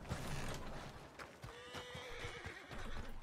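A horse in a video game whinnies loudly and close, with clip-clopping hooves and other game sounds running under it.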